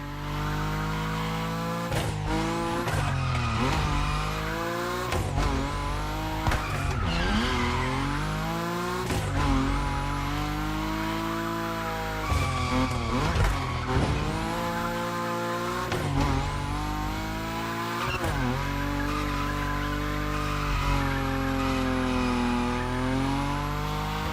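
A Nissan 370Z Nismo tuned to 850 horsepower slides at high speed in a racing video game, its engine roaring steadily over screeching, skidding tires, loud and continuous with revs rising and dipping throughout, alongside game music.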